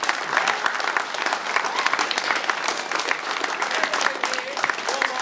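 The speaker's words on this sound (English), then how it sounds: "Round of applause for Michael" An audience at a university solar car team presentation gives a steady round of applause, dense and even clapping throughout with a faint crowd murmur underneath.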